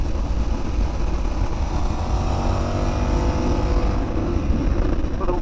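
A KTM 1390 Super Duke R motorcycle is ridden on a track. Loud, steady engine roar mixes with heavy wind rush from an onboard position. Engine tone rises slightly toward the end.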